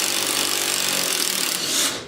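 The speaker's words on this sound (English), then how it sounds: "I don't know if the little wrench here is strong enough, but I'm going to try it and let's see if it'll take this bolt off." A small 3/8 drive wrench works on a bolt on a 2009 Polaris Ranger, giving a continuous loud rasping, grinding whir for about two seconds that rises briefly at the end, with no talking.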